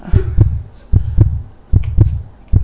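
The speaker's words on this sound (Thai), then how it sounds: "หูเสียงหัวใจเต้นแรงมากฮะ" A heavy heartbeat in the horror video game Belost thumps in close, loud paired beats, lub-dub, repeating roughly every 0.8 seconds over a low hum.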